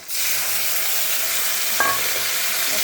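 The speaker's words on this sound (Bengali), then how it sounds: "মশলাটাকে আমি একটু ভালো করে ভেজে নেব।" A ginger and cumin paste masala fries in a pan with cashews, giving a loud, continuous close sizzle and a brief stir partway through, with no voices.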